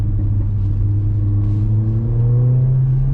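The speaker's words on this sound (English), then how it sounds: "Even the crackles on downshift" A Mercedes A45 AMG with the optional Sports AMG exhaust drones steadily at close range with a low, rising hum, the exhaust note climbing as it accelerates, crackling on downshift.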